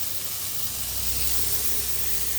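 Steady hiss of ingredients frying in a pan while curry for dal puri is being cooked, a continuous broadband sizzle at even loudness with no talking.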